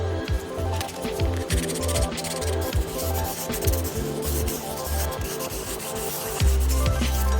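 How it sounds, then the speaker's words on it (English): A nail file sanding down the edge of a resin candle holder, with rapid repeated rasping strokes in an uneven rhythm, close and fairly quiet. "I'm just gonna go ahead and take a nail file to sand these down"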